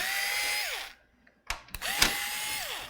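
A power drill whirs at close range, backing screws out of a laptop in two short runs, its pitch winding down each time, with small clicks and handling knocks during the gap.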